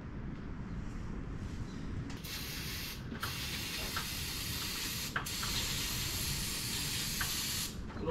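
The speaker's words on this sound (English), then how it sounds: "A little brake clean, get them cleaned out." Brake cleaner sprayed onto hydraulic lines on a manure trailer boom setup, heard as a steady close hiss with several short bursts over a constant noisy background.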